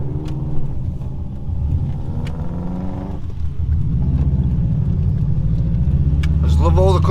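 A Subaru Impreza WRX cruising country B roads on the drive home from a car show, its steady engine drone and road rumble running throughout and swelling slightly near the end, with a voice talking over it.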